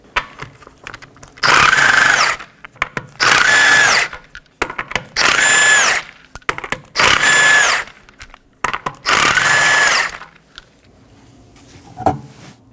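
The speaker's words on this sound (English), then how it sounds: "I'll be using a 21mm socket to remove the 5 lug nuts." A power tool fitted with a 21mm socket spins off the rear wheel lug nuts on a 2015-2023 Nissan Maxima, giving five loud, separate whirring bursts of about a second each with short metallic clinks and quiet pauses between them.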